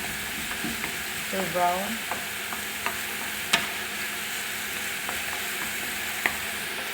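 Onion cooks in a pan, a steady soft sizzle with occasional stirring scrapes and light clinks, while a voice briefly speaks over it.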